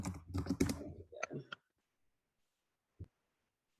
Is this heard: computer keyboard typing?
yes